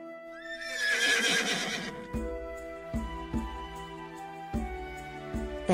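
A loud horse whinny, followed by snorts and hoof-like thumps under a steady musical backing.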